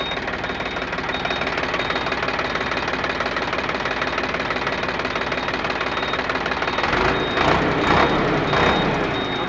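A Sonalika DI 47 RX tractor diesel engine runs close by with a steady, knocking idle rumble that grows louder and rougher near the end.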